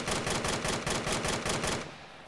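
Automatic gunfire in the military shooter Arma 3, a rapid burst of about eight evenly spaced loud shots fired close by, followed by a brief fading echo.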